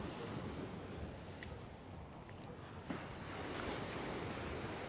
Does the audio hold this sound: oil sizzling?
no